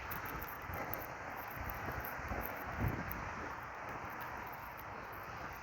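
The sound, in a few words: wind while walking outdoors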